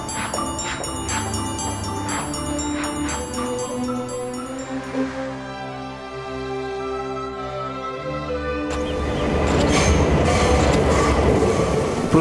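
Vienna metro train in motion, heard from inside the car: a loud steady rumble with rising electric motor whine and squealing tones, building to a harsher roar near the end.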